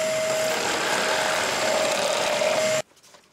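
A power drill with a thread-cutting bit bores a 55 mm hole, producing a steady, loud whine with a constant tone that cuts off abruptly near the end.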